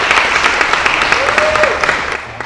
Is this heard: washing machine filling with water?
no